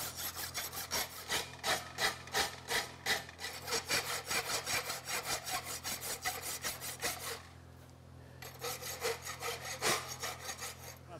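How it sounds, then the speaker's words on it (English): A farrier's rasp drawn in steady, rhythmic strokes across a horseshoe heel, loud and close, with a short pause near the end before the rasping resumes; no talk. "I'm just gonna rasp it up where I can still get at it."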